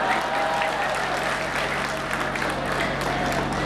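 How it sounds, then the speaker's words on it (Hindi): Applause from the audience at a Hindi comedy poetry gathering, a hall clapping at moderate volume over a low steady hum, fairly even and continuous. "ताली तो पूरा सदन इस बात पे बजाएगा"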